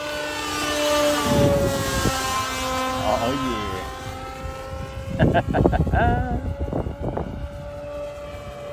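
A propeller-driven RQ-7 Shadow RC airplane drones steadily overhead with a sustained engine whine, while a person speaks briefly over it.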